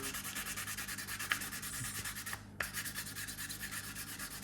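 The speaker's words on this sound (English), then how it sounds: "we've already sanded the edge once. I do have a higher grit sandpaper" Higher grit sandpaper rubbed along the edge of a leather wallet in quick, even back-and-forth strokes, close and soft, with a brief pause midway before the rhythmic sanding resumes.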